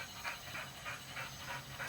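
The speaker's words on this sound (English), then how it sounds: "That's my dog." A tired dog panting in a rhythmic series of soft breaths with faint whimpers, close and fairly quiet, repeating about every third of a second.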